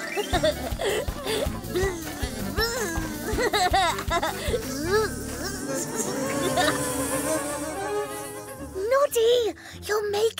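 Cartoon honey bees buzz around a beehive, a busy insect drone running through the scene under lively music and childlike voices talking.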